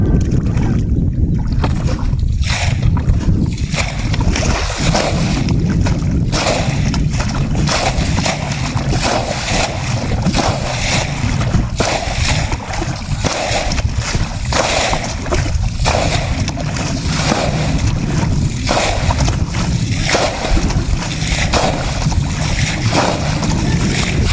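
Water is bailed out of a fish pond by hand to catch large snakehead fish, producing continuous loud splashing and rushing water mixed with outdoor wind buffeting, close to the microphone.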